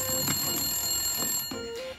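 A telephone bell rings at a toy salon during a pretend commercial, in repeated short ring pulses under a steady tonal hum, moderately loud and without speech.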